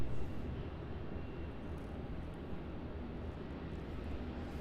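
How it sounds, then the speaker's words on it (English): A Singapore Airlines Boeing 777-300ER taxis onto runway 34 at Melbourne Airport, a steady distant broadband jet engine roar at moderate level, with no voices. "taxiing onto runway 34 now is at Singapore Airlines 777-300ER"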